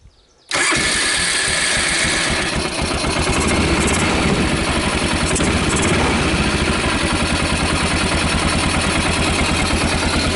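A Kazuma Jaguar 500 4x4 ATV engine starts abruptly after a moment of quiet, then settles into a loud, steady, rhythmic idle close by.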